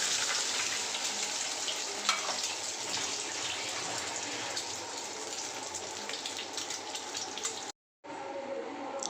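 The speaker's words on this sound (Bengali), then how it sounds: "সকালকার নাস্তা করব সেই জন্য এই যে ডিমটা ভাজতেছি" An egg frying in a pan for breakfast, a steady broad hiss of sizzling oil with faint crackles, close and even, briefly cutting out near the end, with no voices.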